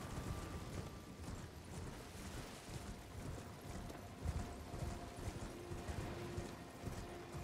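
Horse hooves clip-clop in a steady galloping rhythm while riding through a forest in the video game Elden Ring, faint and mixed with wind-like ambience.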